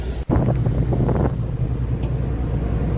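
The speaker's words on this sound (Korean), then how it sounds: "야외 데크로 나와보니 시원한 바람이 불고" Wind buffets the open outdoor deck of a ferry, a steady low roar that rumbles against the microphone, with a soft engine hum underneath and brief gusts near the start.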